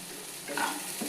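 Okra frying in a pan, a brief steady hiss of sizzling oil with a soft stirring scrape swelling midway, close and unaccompanied by voices.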